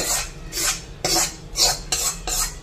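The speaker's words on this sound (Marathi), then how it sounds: "आता हे गुळ आहे ना आपण हे आतमध्ये टाकू" Jaggery being tipped into a pan and stirred with a metal spoon while making methi ladoo, giving repeated scraping and clinking bursts of utensil against pan, close and fairly loud, with no talking.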